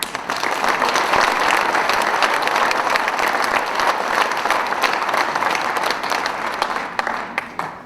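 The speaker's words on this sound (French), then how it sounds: "merci de les avoir applaudis" Audience applause at a community council's New Year reception, a full, steady wash of clapping from a large crowd that gradually thins out toward the end.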